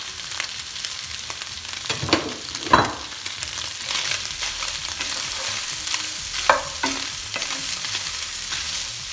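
Homemade döner meat with red pepper flakes and onion being stirred in a hot pan, a steady sizzle with scraping stir strokes at irregular intervals.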